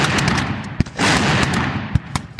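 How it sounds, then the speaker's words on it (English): Mexican–American War battle effects: a dense, loud barrage of gunfire and booming artillery, with sharp individual cracks punctuating the continuous roar, up close and without speech. "American Captain Bragg's flying artillery fires like crazy."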